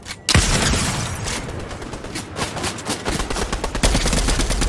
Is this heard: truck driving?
no